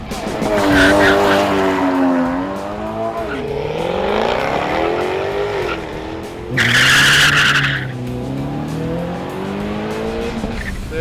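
A loud sports car engine starts, revs and drives, pitch rising and falling through gears, with a sharp burst of tire squeal midway.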